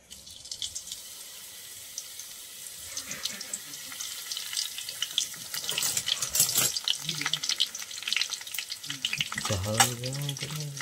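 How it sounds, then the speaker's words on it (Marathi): Mustard seeds, cumin and curry leaves hit hot oil for a tadka while making stuffed brinjal, giving a steady crackling sizzle that swells louder midway, with clattering stirring and a short burst of other sound near the end. "मोहरी आणि जिरी तसेच कढीपत्त्याचा तडका देऊया."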